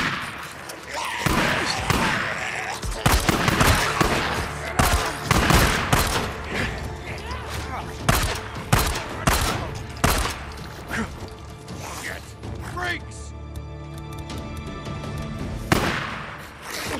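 Sustained bursts of gunfire as marauders fight freaks in Days Gone, rapid repeated shots crowding the whole stretch, loud and close, with some voices mixed underneath.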